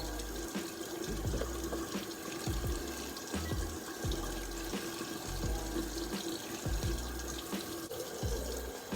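Tap water running steadily while dyed hair is rinsed at a sink, a continuous close splashing rush with faint irregular patters, moderately quiet and with no voices.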